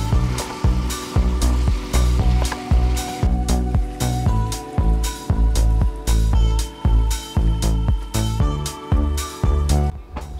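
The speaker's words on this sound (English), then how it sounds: "while we're sizzling" Meat sizzles while cooking in a pan after seasoning and a splash of water have gone in, a steady loud frying hiss with a regular pulsing rhythm running throughout.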